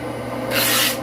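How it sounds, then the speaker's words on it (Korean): A saxophone neck cork is sanded with 400-grit sandpaper, giving a single short, close rasping stroke that rises loud and then stops. "여기서 사포는 400방짜리 사포입니다"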